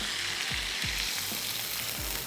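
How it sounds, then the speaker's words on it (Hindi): Garlic-ginger paste and whole garam masala fry in hot oil with a steady, close, loud sizzle, broken by a few soft low thumps as the pan is stirred. "अब हम इसमें ऐड करने जा रहे हैं लहसुन अदरक का पेस्ट, साबित गरम मसाला। हल्का सा हमने इसको कड़कड़ाया"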